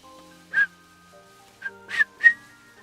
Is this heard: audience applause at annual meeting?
no